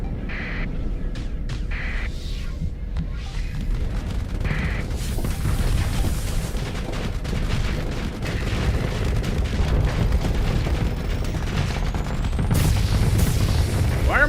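Torpedo hits and explosions keep booming through a space battle in the video game Starsector, with repeated heavy blasts over a dense rumble of weapons fire. There is no talking.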